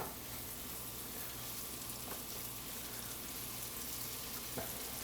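Beef searing in olive oil in a saute pan for a Guinness Irish stew, a steady soft sizzle with faint crackles and an occasional tap, even and moderately quiet throughout with no talking.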